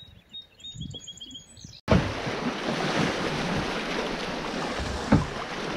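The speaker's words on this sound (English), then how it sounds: "Waves caused by the wind." Wind-whipped waves lapping on the Connecticut River under a headwind, a steady close wash of water and gusty wind noise that starts abruptly and continues, with one louder slap of water near the end.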